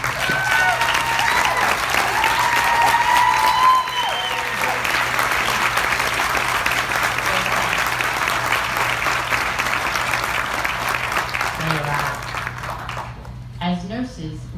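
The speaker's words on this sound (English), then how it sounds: "can we give them a round of applause?" An audience gives sustained applause as nurses stand at a ceremony, dense steady clapping filling the room for most of the stretch, fading near the end as a voice begins.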